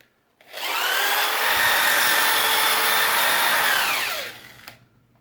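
A power sander or similar tool works a surface being polished, whirring steadily for about four seconds before spinning down, loud and close with no talk.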